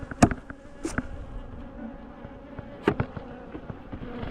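Honey bees buzz around open hives outdoors, a steady close drone with several sharper passes as individual bees fly near.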